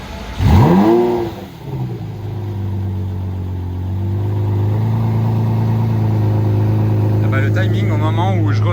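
A Lamborghini Murcielago pulls away on a street in Monaco, a short loud rev followed by a steady deep engine drone as it moves off, with a higher whine rising near the end.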